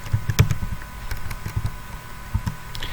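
Quick clattering keystrokes on a computer keyboard, close and fairly loud, arriving in short irregular bursts with brief pauses, as someone types a search into a browser on a PC or laptop.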